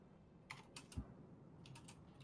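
Computer keyboard typing in a few quick bursts of light clicking clacks, a cluster of keystrokes followed by a short pause and then another burst, faint and close.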